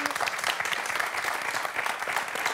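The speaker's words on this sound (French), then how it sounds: "Pas de points, mais on peut applaudir Eric quand même." A television quiz show studio audience gives dense, steady applause throughout, moderately loud and unbroken.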